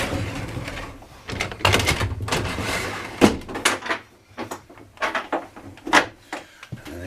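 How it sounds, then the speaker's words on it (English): Sliding cabinet doors in the bathroom of a 2019 Primetime Sanibel 3702WB RV are rolled and knocked shut, giving a run of short, close clacks and thumps at an uneven pace with no talk. "they save space by putting slider doors on all this stuff."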